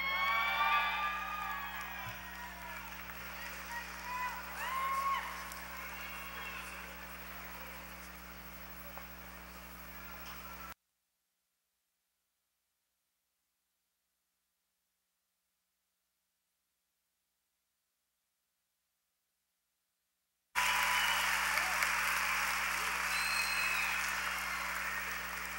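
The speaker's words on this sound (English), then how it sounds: "What a happy crowd." A graduation crowd cheers, whoops and applauds in a hall: dense clapping with shouts, a gap of silence, then a renewed burst of applause.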